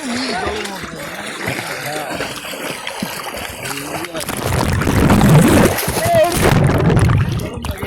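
Someone jumps into an outdoor swimming pool, a loud splash and churning water after several seconds of shouted talking and encouragement, then voices continue over the sloshing.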